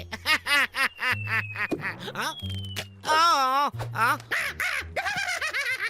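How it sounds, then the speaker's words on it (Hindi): A cartoon crow caws several times in quick, loud, close bursts, mixed with animated character voices and sound effects. "हे, कितना गंदा कौवा है।"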